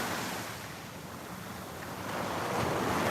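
Ocean waves wash steadily onto a beach at sunrise, a continuous broadband roar of surf mixed with wind buffeting the microphone, swelling slightly toward the end with no voices.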